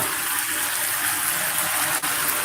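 Heavy monsoon rain pours down just outside an open doorway, a dense, steady hiss of water with no breaks, loud and close throughout and with no voices.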